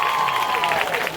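An audience claps and cheers at an outdoor Hanuman Jayanti cultural programme, a dense wash of applause filling the whole stretch.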